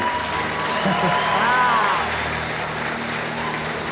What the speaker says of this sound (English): A round of applause for Bruce, if you can.